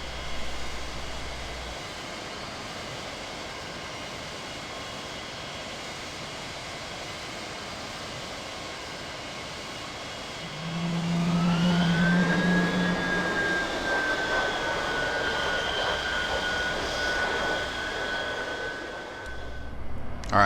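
An F-100 Super Sabre jet engine spools up in Flight Simulator X: a steady hiss of airflow, then a rising whine climbs and holds as a loud, sustained turbine drone with a low hum beneath.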